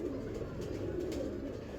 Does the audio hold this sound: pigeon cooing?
yes